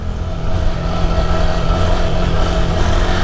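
A Honda Grom motorcycle engine held at a steady, loud drone during a wheelie, a continuous buzzing roar that fills the whole stretch without voices.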